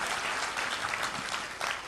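Audience at a poetry recital gives steady, dense applause, many hands clapping together in a continuous wash for a couple of seconds without talk.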